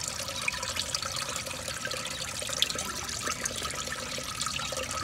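A toilet with its tank set on the bowl flushes and refills, making a steady hissing rush and trickle of running water at moderate level throughout, with no voices.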